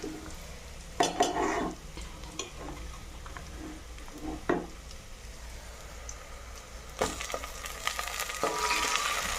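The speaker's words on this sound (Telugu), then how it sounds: "ఇందులో టమాటా ముక్కలు వేసుకుందాం." Onion and tomato pieces fry in a pan, a soft background sizzle broken by occasional stirring scrapes and utensil clinks, a louder burst near the start and more scraping toward the end, close but fairly quiet, with no talking.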